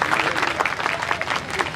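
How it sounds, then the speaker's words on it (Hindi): Applause from the audience at a Hindi kavi sammelan poetry gathering, honouring the stage host; uneven, fairly loud clapping with scattered sharper claps and some crowd voices underneath. "एक बार जोरदार तालियां उनके"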